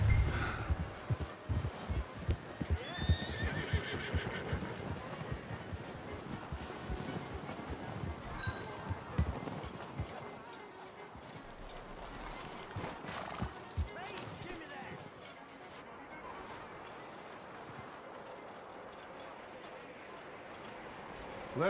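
Horse hooves clip-clop on the ground in Red Dead Redemption 2, the rhythmic steps fading as the horse slows and stops, with voices talking over the start.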